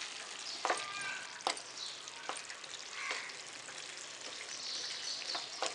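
Mutton kheema frying and sizzling in a pan over medium heat for a Maharashtrian Aagri recipe, a steady close sizzle broken by several sharp scrapes and clacks of stirring, with no voices.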